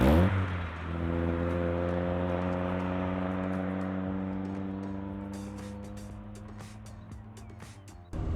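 Engine of a restored, modified classic Austin Mini driving, a steady droning hum with strong low harmonics that holds level for several seconds after an initial rev, with brief knocks and rattles near the end.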